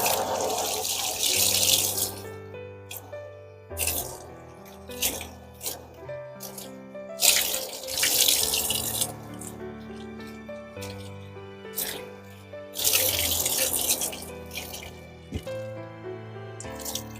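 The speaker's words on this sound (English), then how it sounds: "we're going to rinse out the washcloth" Tap water runs and splashes into a sink while a washcloth is rinsed out during a baby bath, with drips and squishing of wet cloth in uneven bursts, fairly close and alone.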